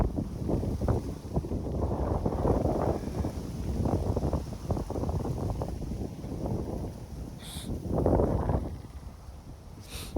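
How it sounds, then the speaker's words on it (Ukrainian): Strong wind buffets a nearby microphone during a bicycle ride in the rain, in heavy, uneven gusts, a rough low rumble that never lets up, with a couple of brief high tones. "Вітер просто жесть."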